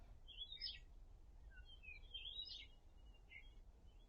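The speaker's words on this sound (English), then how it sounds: "I don't remember any birds chirping in the Capra Demon fight" Faint high chirps and tweets from birds in a video game scatter over a soft, low background hum.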